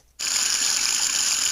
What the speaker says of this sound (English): Let's import the sync faucet sound.